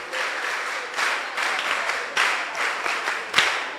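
Applause from a small audience at a mentorship session, a steady patter of clapping rising in several swells, moderately loud with no talk over it.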